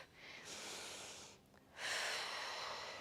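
A person breathes during a yoga exercise in the warrior three pose: a soft exhale, a brief pause, then a stronger, louder breath, close and without speech.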